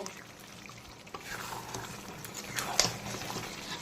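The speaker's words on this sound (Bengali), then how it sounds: "এখন আমি ভেজে রাখা আলুগুলোকে দিয়ে দেব, দিয়ে চিকেন আর সমস্ত মশলার সঙ্গে আবারও প্রায় 10 মিনিট সময় নিয়ে কষিয়ে নেব।" Fried potatoes being sautéed with chicken and spices in a pan for chicken malai curry, a low steady sizzle with stirring scrapes and occasional louder clinks close by, no talking.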